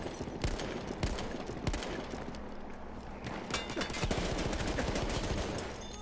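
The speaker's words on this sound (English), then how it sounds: "Machine gun right there!" Rapid machine gun fire in a shooter video game, sharp bursts of shots rattling over a busy background of continuous noise, fairly close and steady.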